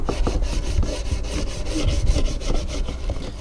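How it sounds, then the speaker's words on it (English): A stiff scrubbing brush works over Boxxer fork lowers in quick, regular back-and-forth strokes, a close, rough bristly rasping that repeats steadily with no voices. "obviously we're scrubbing away a little bit"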